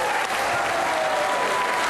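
A crowd at a women's world team bowls match between Australia and New Zealand bursts into sustained applause after a winning shot, a dense, loud, even clapping that holds steady throughout.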